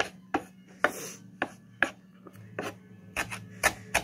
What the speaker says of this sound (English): So I'm chopping this up.